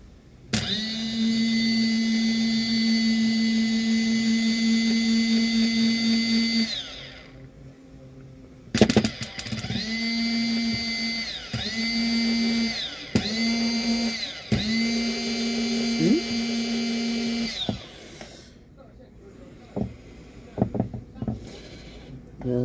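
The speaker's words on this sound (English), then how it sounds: "that's how you test an electric motor" A small, slightly burnt electric motor is powered up for a test and whines steadily, then is switched on and off in several short bursts, each run rising and falling in pitch, before the clip trails off into quieter clicks and handling.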